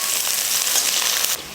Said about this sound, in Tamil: எண்ணெய் காஞ்சதுமே ஒரு பெரிய வெங்காயமும் 2 பச்சை மிளகாயும் சேர்த்துக்கலாம்.